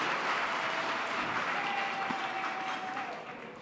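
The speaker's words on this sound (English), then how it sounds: "Let's give them one more round of applause." Sustained crowd applause for dancers at a Beautillion gala, fairly distant and steady, thinning slightly toward the end, with a faint sustained tone running beneath it.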